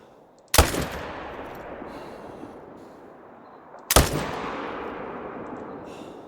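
Two loud rifle shots fired at an animal in a hunting video game, a few seconds apart, each a sharp crack followed by a long rolling echo that fades slowly; no talking.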